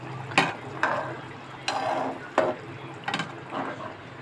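Muitha with soybean, fried potatoes and green chillies simmering in a pot, with soft bubbling and liquid movement broken by several sharp clinks and stirring knocks spaced through the clip; close and moderately quiet, with no talking.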